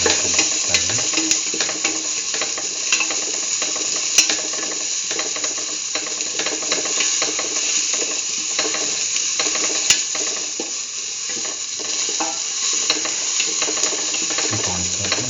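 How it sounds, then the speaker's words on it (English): Onion pieces sauté in a pan for cumin tomato rice, giving a continuous close sizzle with scattered clicks and scrapes of stirring throughout. "Keep on sauteing."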